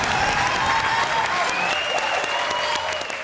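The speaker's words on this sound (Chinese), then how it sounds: "掌声欢迎赵汝翔" Sustained applause from a studio audience on a Taiwanese TV quiz show as a contestant is welcomed, steady and dense throughout with a host's voice faintly over it.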